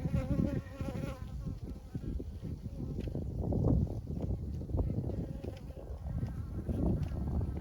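Honeybees buzzing steadily over an opened brood frame during a late-winter hive inspection, a continuous close hum filling the whole stretch with small swells in loudness.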